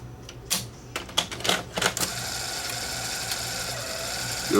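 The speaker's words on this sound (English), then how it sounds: "See if it'll thread a tape." Secondhand tape machine bought off eBay threading a tape: a run of sharp mechanical clicks and clunks, then a steady whirring motor hum that continues to the end, with no voice.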